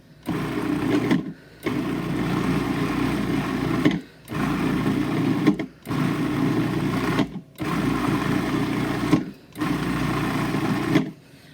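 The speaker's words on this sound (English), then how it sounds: "So we'll drop that all over the food processor, put the lid back on, and this time we're going to pulse" A food processor chops the ingredients for a chipped beef cheeseball dip in pulses, running in loud whirring bursts about a second and a half long, six in a row with short silent gaps between them, close by and without voices.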